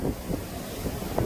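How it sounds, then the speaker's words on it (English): Strong hurricane winds in the aftermath of Hurricane Dorian in the coastal town of Atlantic, Carteret County, roar in steady gusts and buffet the microphone with low rumbling bursts, with no talk. "the wind's blowing me back and forth"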